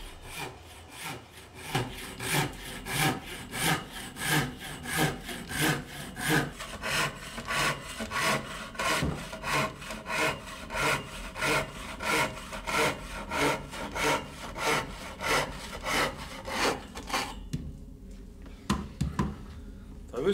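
A hand saw cuts through wood in steady back-and-forth strokes, rhythmic and close, before stopping near the end.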